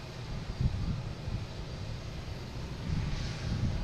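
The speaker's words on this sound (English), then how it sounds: "next coming in is a JetBlue coming in from San Diego, A321neo, flight 620" A JetBlue Airbus A321neo arrives at Boston Logan, its engine noise a low, steady, distant rumble with a faint airy roar and no talking.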